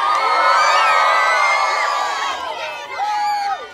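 Children in a cinema audience at a film screening in Łódź cheer, whoop and shout together, a loud close roar of high voices with rising and falling squeals, thinning out near the end.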